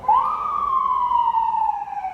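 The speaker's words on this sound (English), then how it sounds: "Because sirens would have to happen when I'm talking to you." An emergency vehicle siren wails on a Brooklyn street, one long sustained tone that rises briefly at the start and then slowly falls, loud and close, with no talk over it.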